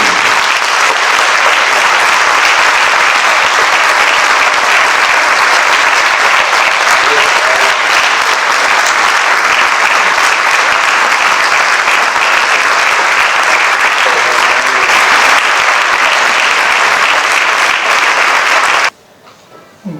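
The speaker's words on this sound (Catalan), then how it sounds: "Un fort aplaudiment" At a music award ceremony in Bellpuig, a crowd applauds loudly and steadily for nearly twenty seconds, sustained clapping that stops abruptly near the end.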